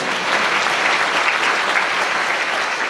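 A church congregation at a deaf mission service claps together in a dense, steady burst of applause that stays even and close for its whole length.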